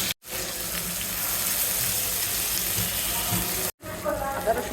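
Chicken pieces and onion fry in a pan, giving a loud, steady hiss of sizzling oil that runs almost unbroken, with two brief cuts of silence and a few crackles near the end.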